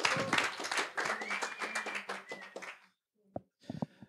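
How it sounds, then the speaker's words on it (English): A burst of audience applause at a cryptography talk at the SHA2017 hacker camp, a crowd clapping briskly for a few seconds before it dies out, followed by a couple of faint isolated claps and small noises. "Please give him a one more round of applause."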